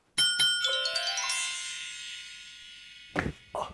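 A shop doorbell rings with a cascade of bright chiming tones that ring out and slowly fade, followed by a couple of short clunks.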